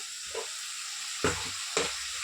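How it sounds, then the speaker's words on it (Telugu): Chicken liver frying in oil with turmeric gives a steady close sizzle and hiss, with a few sharp stirring scrapes or clinks of the spoon against the pan. "వీటిని ఇప్పుడు ఫ్రై చేద్దాం"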